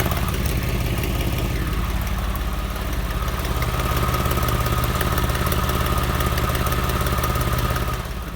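A Porsche engine fitted with a sports exhaust idles steadily and loudly up close, a faint rhythmic slapping from one cylinder's exhaust area threaded through the continuous low rumble, with no talking.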